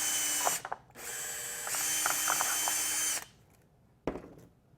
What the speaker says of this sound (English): we're going to drill our center hole first. Push through the tape, make sure your drill's straight.